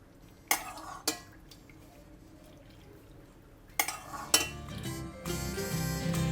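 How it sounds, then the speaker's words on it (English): A few sharp clinks of bowl and utensils, then soup poured into a bowl of Hainanese beef noodles as a steady splashing pour that builds toward the end, with no talking. "Add in the soup."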